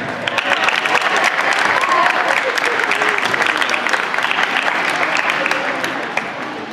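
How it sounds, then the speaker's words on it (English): A gym crowd at a high school volleyball senior night claps and cheers for the 2013 Lady Eagle seniors, a loud, steady wash of applause that holds throughout and eases slightly at the end. "Ladies and gentlemen, give one more round of applause for our 2013 Lady Eagle Volleyball Seniors"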